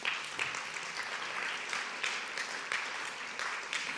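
An indoor audience at a spring celebration claps together for a few seconds, a steady, dense patter of many hands heard at moderate volume.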